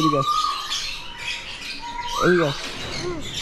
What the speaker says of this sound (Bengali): মিরাজ, এত পাখি তো কোনোদিন, তুমি এর আগে এত পাখি দেখেছো?